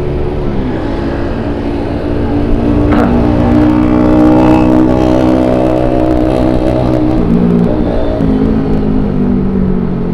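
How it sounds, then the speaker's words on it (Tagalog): A motorcycle runs along a road with a steady, fairly loud engine drone that swells slightly in the middle as it rolls past, with no talk over it. "Yung motor dire-diretso dyan."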